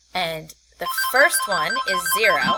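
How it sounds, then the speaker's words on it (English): A mobile phone's melodic ringtone goes off during a maths lesson, chiming loudly alongside and under the teacher's speech. "Oops, sorry, that's my phone."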